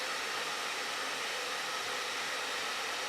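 A salon hair dryer blows at full heat during a curly haircut, producing a steady, loud broadband whoosh with no pauses.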